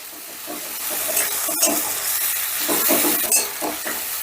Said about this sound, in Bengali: আদাটা তেলের সাথে বেশ ভালো করে মিশিয়ে নিয়ে